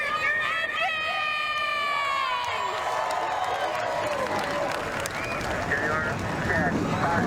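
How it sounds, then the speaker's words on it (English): Forty race car engines fire up and rev for a stock car race on the Charlotte Roval in the NASCAR Racing 2003 game, forming a dense, rising engine roar beneath a talking announcer. "40 engines fire up for racing around the Charlotte Roval for the first ever time in the Target Series"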